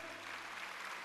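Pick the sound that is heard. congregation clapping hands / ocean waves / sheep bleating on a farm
congregation clapping hands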